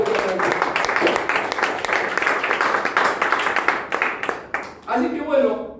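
A congregation applauds during a sermon on the doctrine of faith, a dense burst of many hands lasting several seconds before thinning out as a voice resumes speaking.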